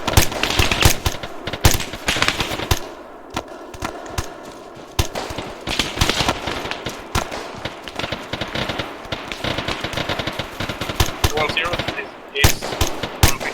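Rapid gunfire in Arma 3 during a platoon training manoeuvre: dense, repeated bursts of machine-gun fire crackle throughout, loud and continuous with brief lulls, and voices talk over the shooting.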